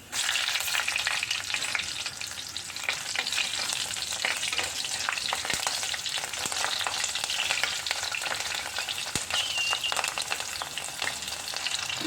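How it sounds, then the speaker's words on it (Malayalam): Green chillies fry in hot oil in a pan, giving a loud, steady sizzle and crackle throughout with no talking. "ഇനി രണ്ട് പച്ചമുളക് ഇട്ട് കൊടുക്കാം"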